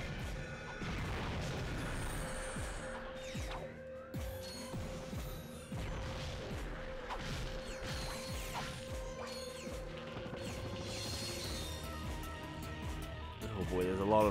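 Cannons and missiles exploding in the Ratchet and Clank 3 battle for Kavu Island, repeated thuds and blasts scattered across a busy mechanical game soundscape, with a player talking over the action.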